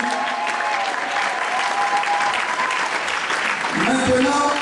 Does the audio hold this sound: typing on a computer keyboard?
no